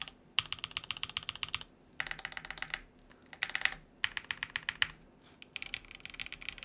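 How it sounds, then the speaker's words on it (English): A Keycult 2/65 mechanical keyboard with long pole switches, typed on in quick bursts of crisp clacky keystrokes with deeper spacebar thocks mixed in, close and fairly quiet, with short pauses between runs. "you can feel that this one here is louder because of that long pull switch"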